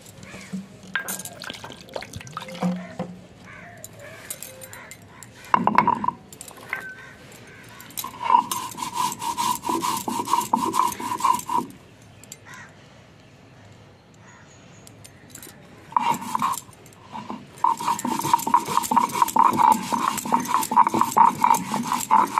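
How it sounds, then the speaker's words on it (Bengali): Poppy seeds are ground into a paste by hand for a bean and poppy-paste recipe, making bursts of rhythmic scraping and grinding close by, separated by quieter pauses. "এবার আমি পোস্ত বেটে নিচ্ছি।"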